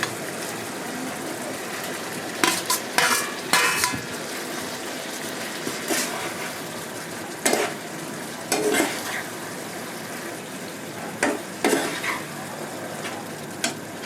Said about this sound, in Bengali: এবার আমি নর্মাল জল দিয়ে দিচ্ছি তো আমি এবার এই মাশরুম আর পেঁয়াজ ক্যাপসিকাম সব দিয়ে দিচ্ছি